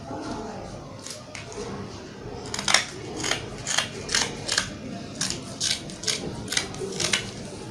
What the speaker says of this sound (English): Then I'm going to cut it out.